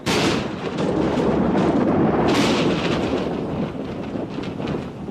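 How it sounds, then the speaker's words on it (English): Thunder from a summer thunderstorm over the cliffs of the Drakensberg mountains in South Africa rolls in a loud, sustained rumble, swelling into heavy crackling bursts with no talk over it. "Thunderstorms."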